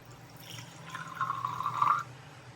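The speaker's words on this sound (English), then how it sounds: "so we need to put in some water." Water pours steadily into a container for cold process honey soap for about a second, a rising trickling tone over a low background hum, with no talking.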